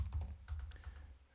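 Rapid keystrokes on a computer keyboard, a quick irregular run of soft clicks close by, fairly quiet with no talking.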